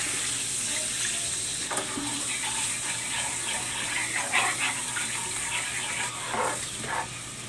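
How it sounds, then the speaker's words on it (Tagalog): Water poured into a pan holding soy sauce and oyster sauce while cooking bok choy, a steady close splashing pour running the whole time under a constant background hum. "Maglalagay din ako ng tubig."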